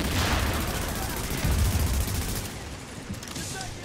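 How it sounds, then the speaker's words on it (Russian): Rapid gunfire in the video game The Division rattles continuously, dense and loud, with bursts blending into a steady roar of shots and a brief lull near the end. "Какой разброс у этой пушки."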